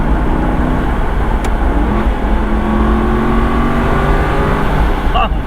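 Aston Martin Vantage V8 Roadster engine held at a steady, loud drone while driving, a continuous deep rumble filling the whole stretch with a faint tonal whine, brief rise near the end.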